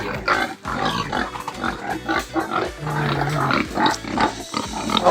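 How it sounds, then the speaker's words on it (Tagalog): Farm pigs grunt and squeal close by in a dense, continuous jumble of overlapping snorts, with a few louder squeals breaking through. "mga baboy natin. Yun! Ang mga baboy."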